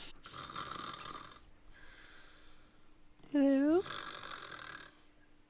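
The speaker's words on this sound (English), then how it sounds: "as the rest of you walk in, the snoring suddenly stops" Snoring rumbles in a dark ship's hold, two long raspy snores followed by a sharp rising snort, close and fairly quiet, with a voice briefly calling out.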